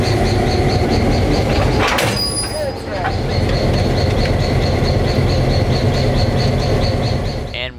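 A locomotive at a heritage railroad museum rumbles loudly as it eases to a stop to couple onto its train, with engine drone, a brief hiss and metallic squeal under a speaking voice.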